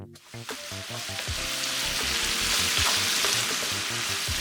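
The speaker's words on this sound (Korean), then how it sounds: "골고루 볶아서 배추가 숨이 죽으면" A steady, close sizzle of cabbage stir-frying in a hot pan, with soft scraping as the food is tossed, and a low tonal background underneath.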